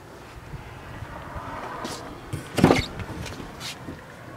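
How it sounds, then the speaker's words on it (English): A short electric power seat motor in a 2006 Chevrolet Avalanche whirs briefly inside the cabin, one quiet mechanical burst over a low background hum, with no voices. "Power seat."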